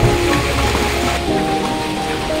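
Steady heavy rain falls and patters on surfaces, a dense close wash of sound with no voices.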